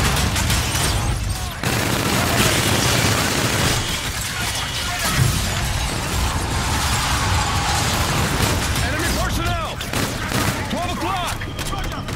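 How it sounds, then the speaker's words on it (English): Gunfire in the shooter game Call of Duty: Infinite Warfare, with dense bursts of shots and mechanical clatter over a steady loud battle din, voices calling out intermittently over the shooting. "They're shooting civilians."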